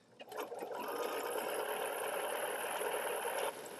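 A Bernina sewing machine fitted with a walking foot runs a zigzag stitch, starting with a few clicks and then humming and whirring steadily and close for about three seconds before stopping.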